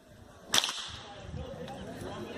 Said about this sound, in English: I'm just walking, cracking the whip.